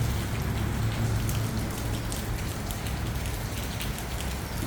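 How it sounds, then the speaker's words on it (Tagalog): Steady rain falls throughout, a dense continuous patter of drops on a surface with no voices over it. "Ayan guys, umuulan siya."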